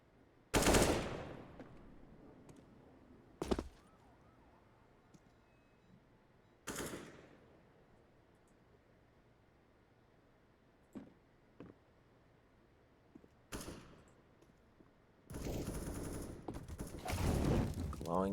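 AK rifle fire in Counter-Strike on the Vertigo map, short loud bursts and single shots separated by quiet gaps, ending in a longer sustained volley.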